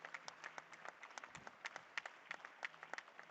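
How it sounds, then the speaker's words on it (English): Scattered clapping at a medical conference medal ceremony, faint and sparse, with separate claps from a small number of hands rather than a full ovation. "Totally befitting for a standing ovation and a thunderous applause."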